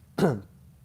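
One short, rough throat clearing, almost a cough, from a man close to the microphone, then quiet.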